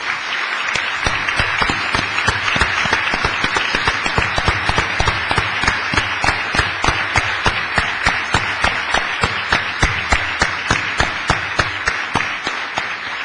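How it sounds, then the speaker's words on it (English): Audience at a conference plenary on globalisation and gender injustice breaking into loud, sustained applause, dense clapping that settles into a rhythmic, unified beat and carries on steadily without speech. "Please, a round of applause for them."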